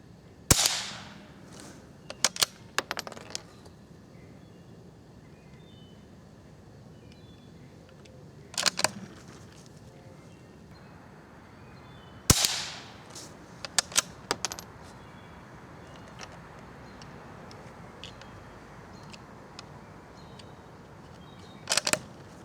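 Quiet suppressed-sounding CCI Quiet-.22 segmented hollow point rifle shots, a handful of short sharp spats spaced several seconds apart, some in quick pairs, over low outdoor background.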